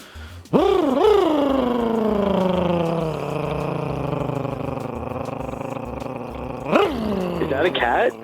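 A voice imitates a purring cat or revving motorcycle engine, a long, loud, rumbling vocal drone with a sharp rising onset that slowly sinks in pitch, followed by a brief second rev.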